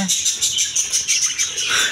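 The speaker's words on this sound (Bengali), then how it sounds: "এদিকে আছে বাচ্চা সহ পাখি" Pet birds in a cage, including nesting birds with chicks, chirp rapidly in a bright, continuous string of close, loud tweets.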